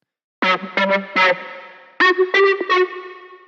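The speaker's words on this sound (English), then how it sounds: "So the bass patch is going up an octave there" A heavily processed synth bass patch, raised an octave, plays short staccato notes in two groups, bright and distorted with a chorus-like shimmer and echo trailing after each phrase, in a one-synth drum and bass track.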